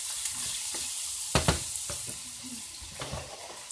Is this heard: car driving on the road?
no